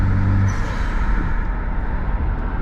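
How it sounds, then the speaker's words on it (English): Car engine with an H-gas blow-off valve venting, a brief hiss near the start over a steady close engine rumble as the car warms up. "H-gas blow-off valve."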